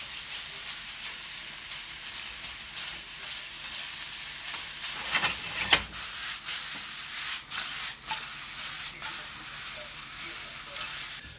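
Mushrooms searing in a pan with no added oil, only a little leftover fat, giving a steady soft sizzle with hiss throughout and a brief louder crackle and clatter near the middle.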